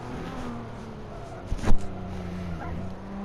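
Car engine drones steadily through a video game race on a straightaway, a low sustained hum with a brief louder swell midway as another car seems to pass close by.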